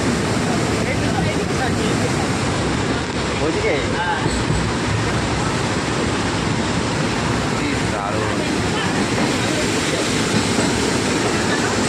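Passenger train crossing the Farakka Barrage, a steady loud broadband rumble of wheels and rushing air filling the whole stretch, with the roar of water released through the barrage blending in.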